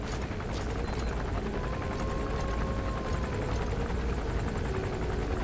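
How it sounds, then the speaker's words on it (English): Gunship helicopter in Metal Gear Solid 5, a continuous loud rotor drone with a steady engine whine, unbroken throughout and close. "Okay, so they've got a flying gunship."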